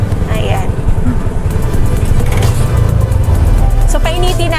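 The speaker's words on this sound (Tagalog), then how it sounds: "maghihintay kayo kahit mga 3 minutes or 5 minutes bago nyo siya patakbuhin para uminit din yung makina" A TVS King auto rickshaw engine idles while warming up, a steady low rumble running continuously under a voice talking over it.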